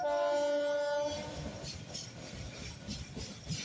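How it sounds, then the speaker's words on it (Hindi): A freight train crosses a bridge in Kashi, opening with a loud sustained horn blast that gives way to a steady rumble and clatter of wagons rolling past close by. "मालगाड़ी गुजरती हुई।"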